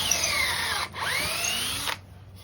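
Power drill bores screw holes into a shop-made anvil block, two loud sustained drilling runs with falling whine as the bit bites, a brief pause between, then stopping abruptly.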